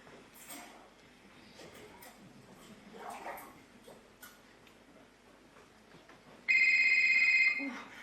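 A telephone rings in a room, with a bright electronic trill arriving near the end after quiet rustling and soft indistinct background activity.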